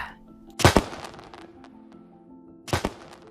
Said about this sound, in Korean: 티엔성에게 폭죽을 쏴댔습니다